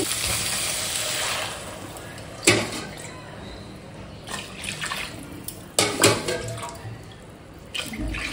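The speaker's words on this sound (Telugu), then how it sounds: "ఈ పొజిషన్లో మనం వాటర్ పోసుకోవాలి." Water poured into a pot of prawn pulao with rice in a home kitchen, a faint running splash with a few louder sloshing bursts and clatters, and soft voices underneath.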